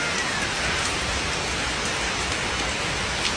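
Rain falls near a house as a steady, dense hiss of drops, even and unbroken across the whole stretch with no voices.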